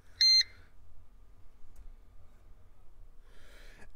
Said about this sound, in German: Hinterlasst eine Nachricht nach dem Piepton und ich rufe zurück.